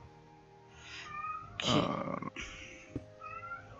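A Minecraft cat meows several times, drawn-out whining calls close and clear, with a short louder burst in the middle and a brief spoken word nearby.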